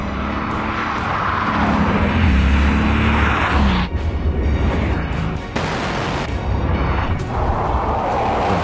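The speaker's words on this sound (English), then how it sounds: "you can actually hear the unique sound of the Veyron before you see it" A Bugatti Veyron approaching and passing, its engine building to a loud roar that cuts off sharply, followed by quieter engine noise and gusty wind, with no one speaking.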